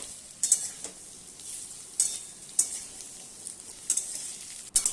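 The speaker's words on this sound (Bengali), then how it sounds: "ডাঁটা আর আলুর টুকরোগুলো উচ্ছের সাথে ভালোভাবে নেড়ে চেড়ে আরও 3 মিনিটের মতো ভেজে নেব।" Bitter gourd, potato and vegetable stems stir-fry in a pan, where a soft background sizzle is punctuated by sharp, bright scraping clatters of the spatula roughly every second or so.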